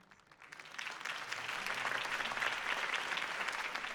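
Steady crowd applause after a campaign speech in the game Batman: The Telltale Series swells in and holds, a dense wash of many hands clapping at moderate volume.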